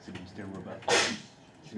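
A single sharp sneeze bursts out in a French-language IT class on Active Directory, loud against steady talk before and after it.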